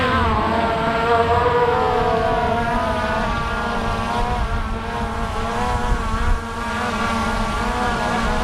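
A Skydio 2 drone hovers close by, its rotors giving a steady, loud, even whine with layered tonal hum that holds without break, no voices.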